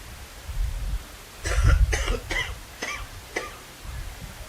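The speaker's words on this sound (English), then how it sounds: "you should have that cough looked at" A man coughs in a burst of about five harsh, rapid coughs close to the microphone, with a low rumbling background and no speech.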